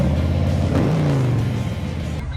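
A 2018 Harley Low Rider Softail with a 114 engine, staged up with Rinehart pipes, revs and rides off, a loud, close exhaust note that rises, then fades slightly as it pulls away.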